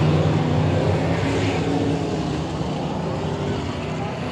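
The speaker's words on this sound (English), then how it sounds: "Race fans, listen to the 89 cars." The number 89 race car and other cars roar at Willamette Speedway, a loud, steady engine drone that fills the whole stretch, with a commentator talking over it.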